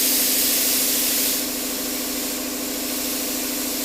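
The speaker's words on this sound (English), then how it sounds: "as you can hear, the compressor has cycled back on" Air compressor for a spray gun running steadily, a close, continuous mechanical drone with a hissy wash of noise that eases slightly after the first second.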